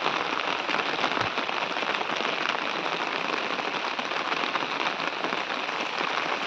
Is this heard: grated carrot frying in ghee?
no